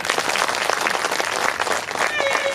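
An audience at a Bhagwat Katha religious discourse claps together, quick dense rhythmic applause filling the hall, with a brief tonal whistle or feedback near the end.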